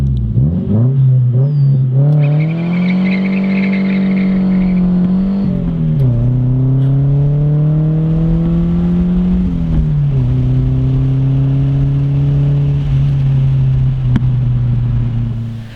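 Car engine fitted with a new, larger aftermarket exhaust, idling with a deep drone and then revved several times, pitch climbing and falling back in long, loud, close pulls.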